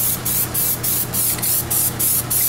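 PlastiDip liquid rubber sprayed onto a car's chrome trim from an aerosol can, a series of about eight short hissing bursts in a steady rhythm, close and fairly loud, no talking.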